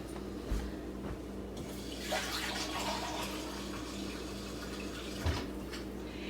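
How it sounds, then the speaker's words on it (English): Water pours from a cup into a rice cooker pot while brown rice is being prepared, a soft steady splashing stream with a few light knocks, quiet and close with no talk. "I'm going to dump in our first 2 cups of water here."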